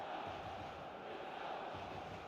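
A stadium crowd at a San Siro football match gives off a faint, steady, distant roar and murmur, continuous throughout with no distinct cheers.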